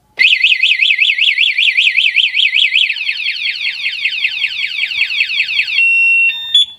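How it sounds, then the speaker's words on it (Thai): A Honda Wave 110i motorcycle anti-theft alarm sounds a loud warbling tone continuously for several seconds, its rapid up-and-down whoop shifting pattern before settling into a steady tone, with no talking. "เมื่อมีใครมาเล่นรถนะครับ มันจะเตือนก่อนนะครับ 1 ครั้งว่าอย่ามายุ่งนะครับ"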